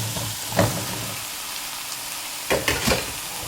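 Aubergine for aloo baingan hits a pan and fries with a soft, steady sizzle, broken by a few louder bursts of clatter and stirring.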